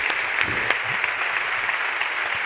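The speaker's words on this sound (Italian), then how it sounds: "Prendi tutto questo applauso, che te lo meriti" An audience applauds steadily at an Italian award ceremony for the Premio Terzani, a dense, loud wash of clapping with sharper individual claps standing out.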